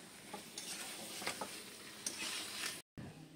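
Fish pakoras fry in a home kitchen pan. A soft, steady sizzle is broken by occasional stirring clinks, and a brief dropout cuts in near the end.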